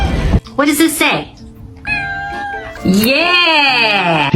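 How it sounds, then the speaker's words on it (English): A cat meows several times up close, with drawn-out, rising and falling cries of varying length, loud and clear. "His meow is so cute."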